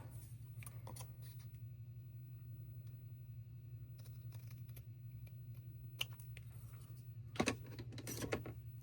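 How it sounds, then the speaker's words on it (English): Scissors snip through pieces for a vintage suitcase craft, giving a few scattered crisp cuts over a steady low hum, with a louder cluster of snips near the end. "You just want to cut one of these off."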